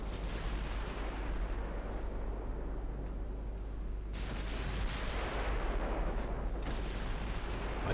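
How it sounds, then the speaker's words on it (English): Naval guns of early dreadnought warships in Ultimate Admiral Dreadnoughts fire in heavy, rolling booms, several distinct thumps rising over a constant low rumble of sea and distant battle. "Firing at 17 kilometers."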